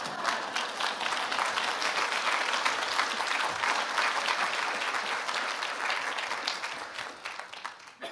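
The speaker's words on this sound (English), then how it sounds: "you can clap" Sustained applause from an audience at the 2024 VOscars volunteer awards, dense and even from many hands, holding steady for several seconds before thinning slightly near the end.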